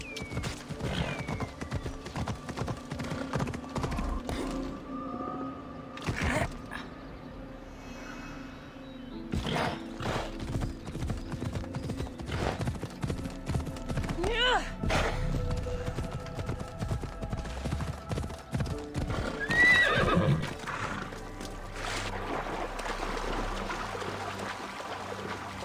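Horse hooves clip-clop at a gallop with occasional whinnies in the Assassin's Creed Odyssey game world, layered over steady ambient game sound and music, fairly close and continuous.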